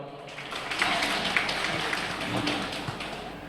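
Audience applause welcoming a speaker at an astrology conference, a steady rippling patter of many hands clapping, moderately loud and continuous, with faint voices underneath.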